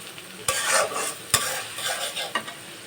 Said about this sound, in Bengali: পেঁয়াজ আর রসুনটা ভালো মতো ভেজে নেব।